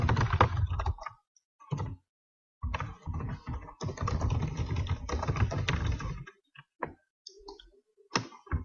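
Computer keyboard being typed on while writing Java code, giving rapid clustered keystroke clicks in several bursts separated by short pauses, close and fairly loud with no voices.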